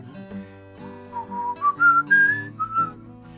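Someone whistles a short melodic tune, the notes climbing in pitch before settling, clear and close with no talking.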